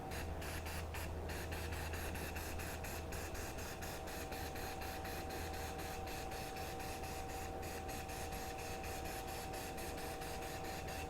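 Yellow UV reactive spray paint hisses from a can in a steady stream of short rapid bursts, close and continuous, with no talking.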